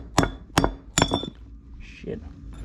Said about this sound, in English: I need a big hammer.